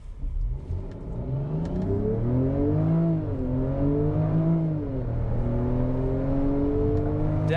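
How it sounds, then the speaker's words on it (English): Engine exhaust note of a Jaguar F-Pace R-Dynamic S SUV heard from inside as it accelerates, the tone rising through gears with brief dips at shifts, loud and continuous. "I like that classic Jaguar exhaust note."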